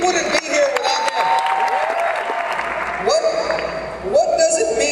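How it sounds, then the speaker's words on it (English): A crowd at a Ron Paul rally breaks into applause, a sustained wash of clapping with cheers heard under a speaker's voice. "he deserves a round of applause"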